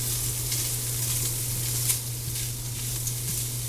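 Ham cooking in a pot on high heat gives a steady, close sizzle and frying hiss that runs without a break, with a low constant hum underneath and a few faint stirring clicks.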